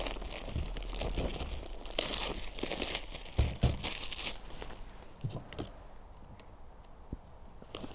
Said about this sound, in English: So the first step is to remove the cellophane cover.